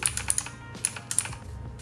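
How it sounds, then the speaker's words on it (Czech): Mechanical keyboard, a Chinese-made model, being typed on in a home studio: a quick run of sharp, clacky keystrokes close by, irregular and fairly loud over a low steady hum. "mechanická klávesnice dělá hrozný hluk"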